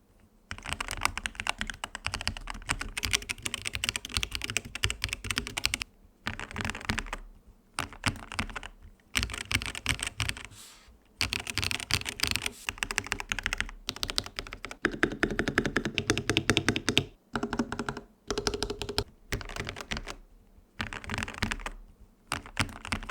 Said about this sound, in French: La frappe est nette, il n'y a pas de reverb, ça sonne un peu comme un Lego.